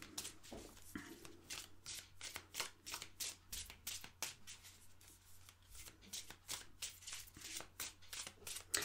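Tarot cards are shuffled by hand over and over at close range, a rapid, rhythmic riffle of crisp papery bursts, quiet and with no speech.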